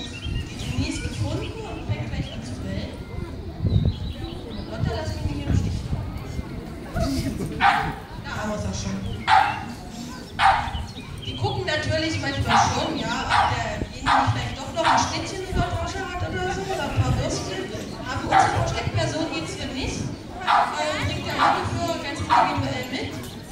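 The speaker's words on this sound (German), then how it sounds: "Und solange wird einfach erwartet, dass der Hund bellt." A search and rescue dog barks repeatedly in sharp, evenly spaced bursts outdoors near a tree trunk, fairly close, with people talking in between and around the barks.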